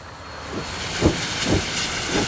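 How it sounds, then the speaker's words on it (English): Steam locomotives working at the Lorraine ore dock, unloading iron ore ships, give a steady hiss of steam with three or four soft, rhythmic exhaust chuffs rising from it at a moderate distance. "At the Lorraine dock, steam trains unload ships laden with iron ore."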